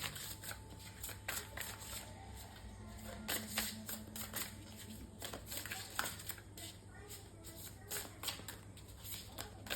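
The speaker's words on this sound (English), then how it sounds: "While I'm shuffling," Oracle cards from the Magical Spirit Oracle deck being shuffled by hand, a run of soft papery riffles and flicks at close range over a steady low hum, with a voice speaking softly in places.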